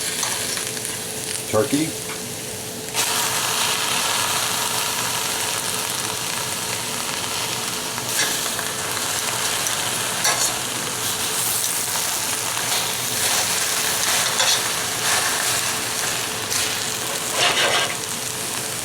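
Turkey thigh sizzles steadily in a 4-quart pot, a loud continuous frying hiss from about the third second onward, with a few brief clinks and a short word spoken early on.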